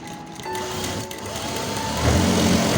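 A sewing machine stitches a decorative cloth shela for a Ganpati idol, whirring steadily at close range and speeding up toward the end of the short run.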